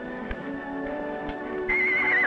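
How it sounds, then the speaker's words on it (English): A horse whinnies loudly and close, a long neighing call over faint hoof clopping, rising into a shrill wavering peak at the end. "You know, Ellie, I do believe that horse whinnies with a Southern drawl."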